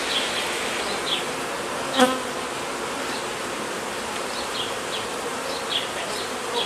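Honeybees drone around an opened hive full of brood and nectar, a steady near buzz with single bees zipping past the ear, plus one brief sharp click partway through.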